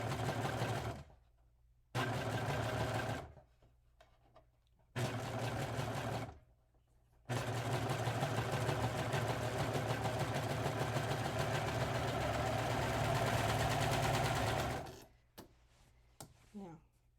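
A sewing machine stitches a seam on a shirt being made into kid's shorts, running in loud close bursts separated by short pauses and then one long steady run before stopping.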